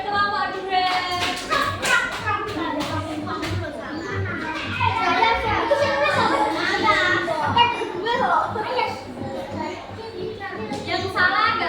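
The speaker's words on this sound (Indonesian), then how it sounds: "tepuk tangan buat kelompok duet" Children in a primary school classroom clap for a duet group, rhythmic patterned hand clapping mixed with lively kids' voices and chatter throughout.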